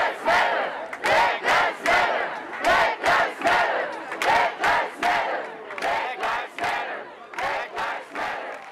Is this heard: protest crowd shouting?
yes